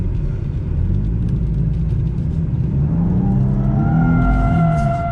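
A car engine roars loud and close during a drift driving lesson, a constant heavy rumble that swells slightly toward the end as the throttle is held, with no talking.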